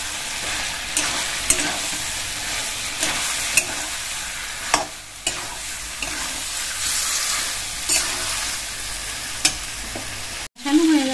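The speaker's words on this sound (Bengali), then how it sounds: "ফুলকপিটা দিয়ে দিচ্ছি, দিয়ে কষতে থাকবো।" Cauliflower fries in a pan with turmeric and salt, a constant crackling sizzle punctuated by sharp clinks and scrapes of a spatula being stirred through it, ending with a brief louder knock.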